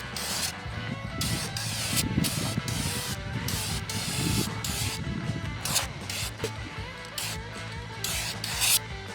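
Continuous hissing spray from an aerosol paint can applying a light coat to a 1969 Mustang shaker scoop, close up, with brief pauses between passes and faint rubbing noises underneath.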